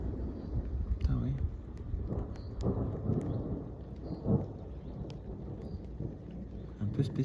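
Thunder rolls and rumbles through a thunderstorm over the Seine-Maritime and Somme countryside, low and sustained with a few sharper swells, while people talk excitedly nearby.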